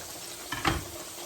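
Pork chops frying in a pan, a steady soft sizzle with a brief louder crackle as something is stirred or pushed down mid-pan, no talking.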